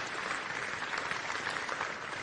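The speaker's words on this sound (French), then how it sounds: "Merci d'applaudir." Ceremony audience at an opening event applauding in a steady, even wash of clapping, moderately distant and continuous throughout the short stretch.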